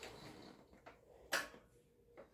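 A refrigerator door swings shut with one sharp click in a quiet room, surrounded by a few faint soft knocks and handling sounds.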